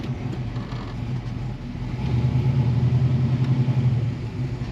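A 1969 Chevrolet Camaro restomod with a fuel-injected 427 V8 idles with a low rumble, then the engine note swells as the car pulls away, close and steady without any talk.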